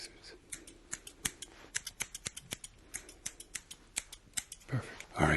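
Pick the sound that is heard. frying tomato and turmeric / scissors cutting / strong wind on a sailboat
scissors cutting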